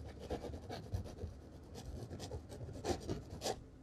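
A paintbrush scrubs a mix of dark sienna and Van Dyke brown oil paint onto canvas for sand in a mountain landscape, giving soft, close, rhythmic rasping strokes with a few louder scratches.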